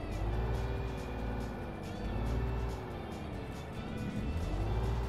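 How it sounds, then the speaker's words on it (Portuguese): A deep, steady truck engine idles and hums continuously in Euro Truck Simulator 2, with slow swells in pitch and a low rumble throughout. "Agora sim, tô ouvindo o barulho do motor."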